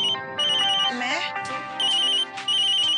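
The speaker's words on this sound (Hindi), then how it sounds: "अरे तेरा फोन बज रहा है।" A mobile phone ringtone plays in repeating melodic bursts while a person talks over it.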